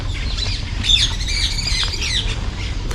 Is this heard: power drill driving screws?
no